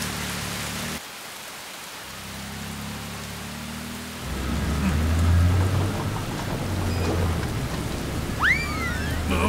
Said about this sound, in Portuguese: Ah, está chovendo.